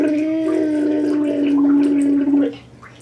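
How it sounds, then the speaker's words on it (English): Child blowing bubbles in bath water, a close sustained gargling bubble burble with a humming voiced tone for about two and a half seconds before it stops. "I'm blowing bubbles like pandas."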